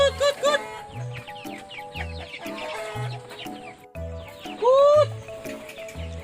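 Chickens cluck and squawk repeatedly, with a rooster-like call rising near the end, close by and loud in an irregular chorus.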